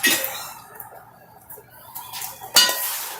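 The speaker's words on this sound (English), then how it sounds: "So then you're just going to mix it. You can use a spoon." A spoon works through a roasted corn salad in a bowl, making soft wet squelches and light clinks, with a louder scrape and clatter near the end and no voices.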